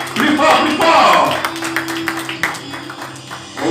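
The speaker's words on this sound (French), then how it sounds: "Applaudissez, applaudissez pour moi. Plus fort, plus fort." Wedding guests applaud at a ceremony, a dense burst of clapping from a gathered crowd that swells early and then thins, with a voice speaking over it throughout.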